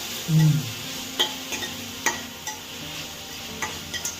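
Fresh spinach greens sautéed in a pan with cumin and garlic, heard as a soft sizzle with a handful of sharp spoon scrapes and taps, plus a brief low sound near the start.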